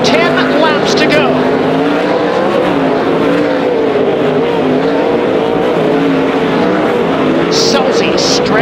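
World of Outlaws sprint cars racing in traffic on the tight Bakersfield Speedway bullring, a continuous loud engine roar with shifting pitch as cars pass, under a commentator's talk.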